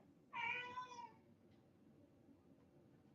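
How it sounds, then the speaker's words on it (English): A house cat gives one clear, close meow wanting to be let in or out, followed by quiet room tone and the start of another cry at the end. "Cat, let me in, let me in, let me out, let me out, let me in, let me out. That is just what a cat does."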